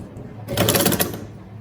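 An electric sewing machine stitching trouser pieces runs in one short burst of about three-quarters of a second, with a rapid even mechanical rattle that stops abruptly, set against a quiet room.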